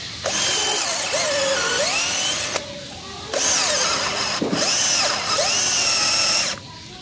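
A cordless XTITAN 21V brushed 13mm drill with a 10mm bit runs close up in three long bursts at low speed settings, its whine dipping and straining under load between short pauses.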